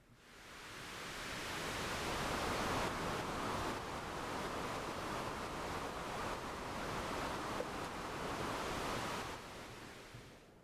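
Noise source patch on an Empress ZOIA effects pedal, producing a steady, full-band wash of hiss that rolls like surf, with slow swells in texture over about ten seconds and no voices.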